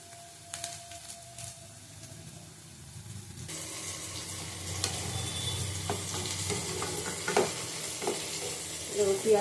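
Onions and chili frying in a pan for an egg chicken tarka, a soft steady sizzle that swells louder halfway through, with stirring scrapes and occasional spatters, close and without talk.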